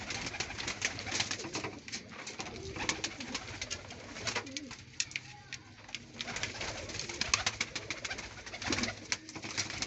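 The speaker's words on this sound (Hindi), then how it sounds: "ये लाल आंखों के कबूतर हैं सारे" Red-eyed pigeons cooing in a loft, several birds producing overlapping soft throaty coos and rustles, fairly close, with faint voices now and then.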